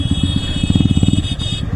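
Several motorcycles, including Yamaha R15 and TVS Apache RTR bikes, rev and pull away close by, their engines throbbing in a rapid pulsing rhythm that swells and then eases, with no talk over them.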